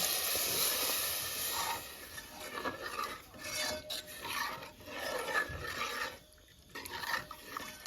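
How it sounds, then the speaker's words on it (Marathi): Crab curry broth hits a hot pan and erupts into a loud, hissing sizzle that keeps bubbling in uneven bursts, with occasional clinks of a utensil. "आता आग जरा जास्त करते आणि हे रस ओततो"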